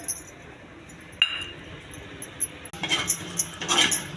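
Food is spooned into a lunch box, giving a few sharp clinks of utensil against container followed by a cluster of lighter taps and knocks, close by and fairly quiet.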